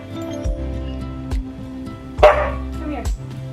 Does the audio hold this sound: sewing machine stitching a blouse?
no